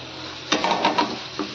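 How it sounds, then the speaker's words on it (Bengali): Prawns, pointed gourd and potatoes sauté in a pan over a steady, soft sizzle, with a few quick stirring scrapes close by. "চিংড়ি মাছ, কাঁকরোল, আলু সব দিয়ে এবার কষাবো"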